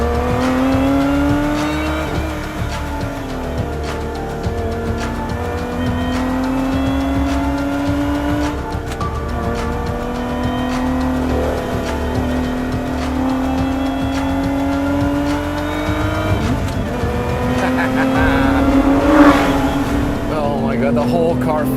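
A Lotus Emira sports car drives through a canyon, its engine holding a steady, loud drone that rises and falls as it shifts and revs, with someone talking over the engine noise throughout.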